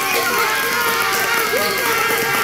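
An audience at a live show claps and cheers in a dense, continuous burst that fills the room. Voices and shouts mix into the sustained applause.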